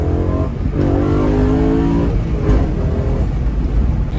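A BMW M3 E92 engine revs hard and loud up close, the pitch climbing and dropping through quick throttle blips with no talking.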